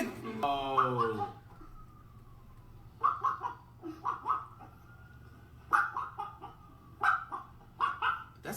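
A chicken gives a sharp bark-like squawk, then a run of short clucking bursts in quick groups, moderately close over a low steady hum.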